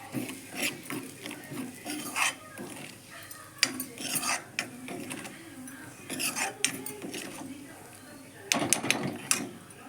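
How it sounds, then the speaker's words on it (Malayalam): Chili and cumin powder are stirred into a curd curry in a metal pot, producing irregular scraping clatters and clinks from the utensil with voices faintly in the background. "ഇനി നമുക്ക് ഇതൊന്ന് ഇളക്കി കൊടുക്കാം"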